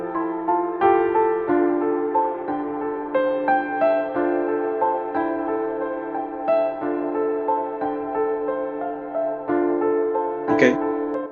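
Layered piano section from a fusion EDM track built in GarageBand, with compression and reverb and no stereo width, playing steady sustained chords and melody throughout, with a brief bright hit near the end.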